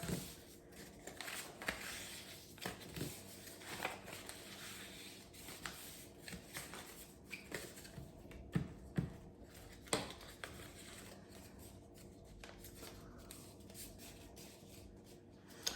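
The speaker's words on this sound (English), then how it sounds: "Folding it back on itself." Paper being folded back on itself while making Christmas decorations: soft close-up crinkles and brushing rustles with sharper creasing clicks at irregular intervals, quiet throughout and with no voices.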